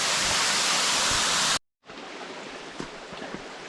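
Creek water pours over the first cascade of Western Creek, a steady loud broadband rush, briefly cut by a short gap of silence before the rushing flow resumes close by.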